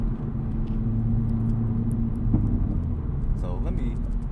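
Integra Type S with a Milltek catback exhaust, a steady low engine rumble and drone at near-constant pitch beneath someone talking, close and continuous.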